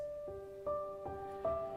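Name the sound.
Heavyocity Ascent piano library with chained and twine layers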